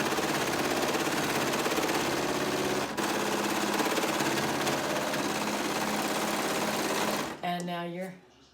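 A sewing machine runs steadily and loudly as it stitches a waistband onto a skirt, a continuous close mechanical whir that winds down and stops near the end, when a voice briefly begins to speak.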